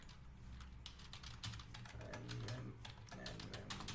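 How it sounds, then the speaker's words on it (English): Rapid, uneven clicking of keys on a computer keyboard fills the whole stretch. The typing is quiet and close, with bursts of keystrokes and short gaps between them. "I'm not the best person when it comes to typing, so just bear with me a bit"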